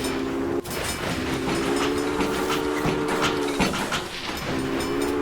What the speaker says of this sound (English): But as you see, this train's still running.